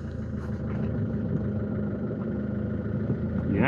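A Citroen C3 1.4 HDi diesel engine runs steadily after a manual gearbox oil change, a close, continuous low rumble with a rising whine near the end and no talking.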